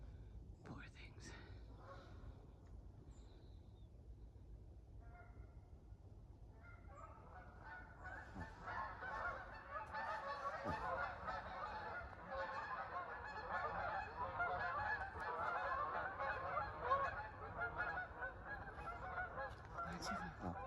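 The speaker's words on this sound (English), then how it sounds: "You hear the geese?" A flock of geese honks from a distance across a lake on a winter day, starting faint and building into a steady, dense chorus of calls over soft outdoor background noise.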